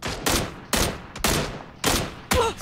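Suppressing fire in the game PUBG: five loud bursts of automatic gunfire, each a short rattling volley, spaced roughly half a second apart, with no voices over them.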